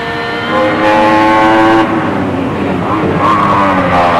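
A rear-wheel drive Mercedes racing car engine roars steadily at close range in 1995, holding a loud sustained drone with a brief dip and shift in pitch partway through, heard from the cockpit with no talk.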